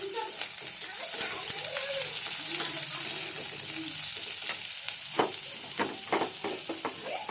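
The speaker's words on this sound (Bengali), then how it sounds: "লাল লাল করে পেঁয়াজগুলো ভেজে নেবো" Onions fry in a hot wok with a continuous dense sizzle, while a spatula scrapes and stirs them in irregular strokes, growing busier in the second half.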